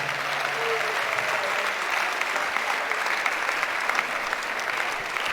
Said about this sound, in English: Please put your hands together for Professor Isiaka Aronsi, the Dean,